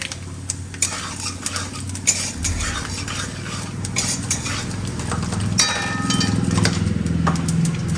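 Bori lentil dumplings fry in a little oil, with a low sizzle under frequent clinking and scraping as they are stirred with a metal utensil.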